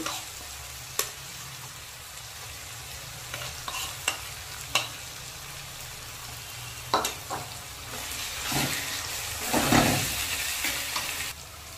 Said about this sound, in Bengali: এবার আমি গুলিয়ে রাখা মশলাগুলো দিয়ে দিচ্ছি।